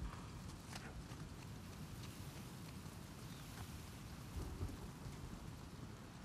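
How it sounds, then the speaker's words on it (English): A thunderstorm rages in the video game Uncharted 4, with a steady wash of heavy rain over a deep, rolling rumble of thunder that swells briefly. The whole scene stays faint and free of speech. "Yep, storm's definitely picking up."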